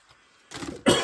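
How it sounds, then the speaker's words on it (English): A short cough close up, a brief soft bump first, then two quick harsh bursts of coughing in rapid succession. "Got a little bit of a cough."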